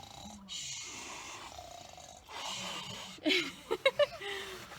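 A person imitates snoring with a few breathy, rasping snores that grow louder toward the end, with talking before them.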